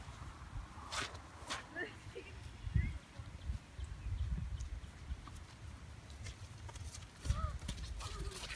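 A horse's hooves clip-clop slowly over a wet, rainy outdoor background, with a few soft steps and occasional faint chirps; a person speaks briefly nearby.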